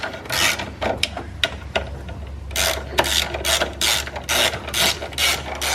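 A ratchet clicks in quick bursts while tightening the top hat bolts on a BMW 1M, with repeated short runs of sharp pawl clicks and brief pauses, close and fairly loud.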